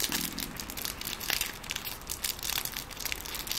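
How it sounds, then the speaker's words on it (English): Crinkly paper is crumpled and rustled up close in a continuous soft crackling stream, with small sharper crinkles throughout. "Can you hear the crinkly paper?"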